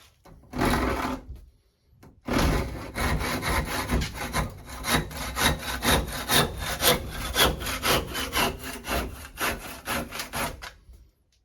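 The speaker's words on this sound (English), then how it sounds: "That's what a hacksaw with a metal blade will do." A hacksaw fitted with a metal blade cuts in steady back-and-forth strokes, loud and close, with a brief pause after the first stroke before a long run of even, rhythmic rasping.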